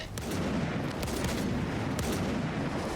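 Rapid gunfire booms from a weapon in the video game Stalker 2, forming a dense, continuous volley with sharp cracks throughout and no talking.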